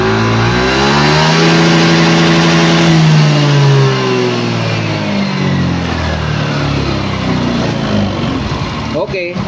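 A motorcycle engine revs up during a diagnostic scanner test, a loud rising-and-falling drone that climbs in pitch over the first few seconds, then settles into a steady throttled roar with a brief clatter at the end.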